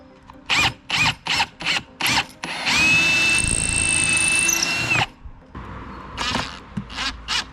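A power drill pre-drills holes for vinyl gutter brackets: several short loud bursts, then one long whining run of about two seconds, then more short bursts, all close up.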